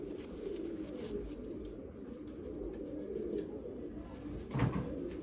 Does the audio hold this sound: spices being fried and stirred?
no